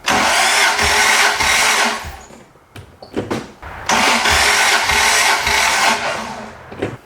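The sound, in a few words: truck engine cranking over during compression check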